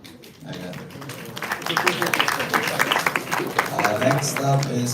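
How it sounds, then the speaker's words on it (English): An audience claps at a Toastmasters speaking event, a dense patter of many hands building after a brief quiet start and holding steady, with voices mixed in the background. "Guys, clap your hands."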